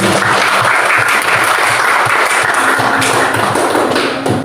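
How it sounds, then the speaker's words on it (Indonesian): A classroom full of students claps together, dense continuous applause close and loud throughout, easing slightly at the end. "beri tepuk tangan dulu untuk kita semua hari ini"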